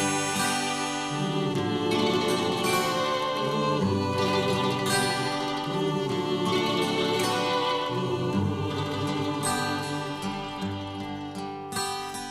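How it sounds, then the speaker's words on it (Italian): A ciaramella folk shawm plays a nativity tune at a living nativity scene in Gravano, Marsala, a loud, steady reedy melody over droning harmonics running continuously without any talking. "la ciarameggia suona così."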